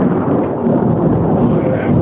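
Loud, continuous rumbling thunder from a close thunderstorm in Bristol, Connecticut, rolling steadily without a break and dominated by deep low-end energy.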